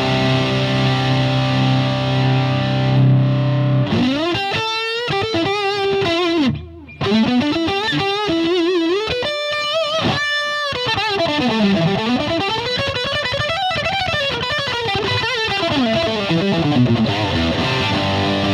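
An electric guitar drives a Steel Panther Pussy Melter Overdrive pedal with the dirt control maxed out, producing heavily distorted riffs with sliding, bending lead lines, loud and continuous apart from one brief pause, with no speech.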